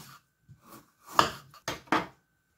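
A knife cuts thinly through frozen mackerel, skin removed, on a board: a few quiet scrapes, then several crisp slicing strokes in quick succession, close up.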